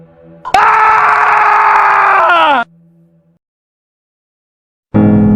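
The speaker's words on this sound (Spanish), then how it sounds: "Pero el profesor gritó." A man lets out a long, loud, sustained scream lasting about two seconds that trails off, then after a silence a second scream bursts in at the end.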